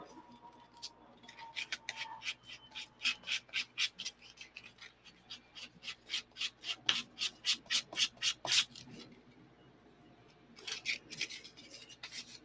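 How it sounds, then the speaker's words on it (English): Sandpaper of 240 grit is rubbed by hand over the tan side of a surface to dull its shine: about twenty steady back-and-forth strokes, close and clear, then a pause before the rubbing resumes briefly. "This is just sandpaper. I want to take the shine off of this tan side so that the glue will stick a little bit better."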